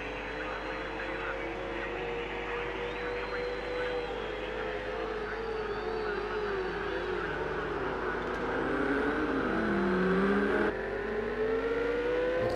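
A race car engine in Project Cars 2 at the Nürburgring GP whines and revs, its pitch climbing and dropping through gear changes, loud and steady, with a voice talking now and then.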